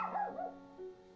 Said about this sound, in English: The die showed 4, and he barked 4 times.